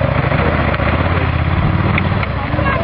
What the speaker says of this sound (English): That's what you call a bike, isn't it?